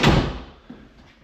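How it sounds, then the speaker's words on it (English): A house door with a freshly adjusted jamb swings shut in a home renovation, landing with one solid thud that fades, then a softer second knock a moment later. "But now that door is closing perfectly."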